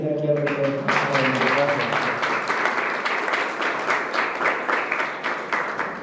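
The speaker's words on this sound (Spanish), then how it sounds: "le damos un aplauso de bienvenida aquí al rector." Welcoming applause from the audience for a university rector at a collective-memory gathering in the Soconusco region, steady clapping from many people with a voice heard briefly at the start.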